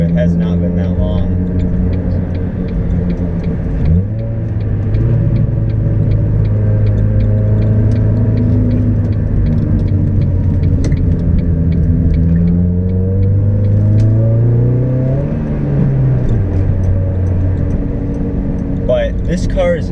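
A 2002 Ford Focus SVT engine rumbles steadily, with a couple of rising revs that climb and fall back, under continuous close talking.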